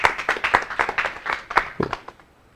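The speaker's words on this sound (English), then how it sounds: "Then another round of applause for Ville." Audience applause closing a web development talk at a tech meetup, a short burst of clapping from a small crowd that quickly thins out and fades.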